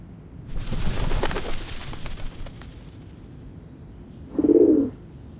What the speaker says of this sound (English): The doves of the Whitestone House are here.